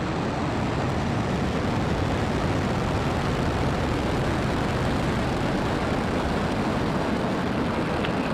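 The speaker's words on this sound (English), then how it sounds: "Ignition and liftoff. Go Falcon, go Thuraya." A SpaceX Falcon 9 rocket lifts off carrying the Thuraya 4 spacecraft in 2025, a loud, steady, rumbling roar of engine thrust that stays constant with no voices.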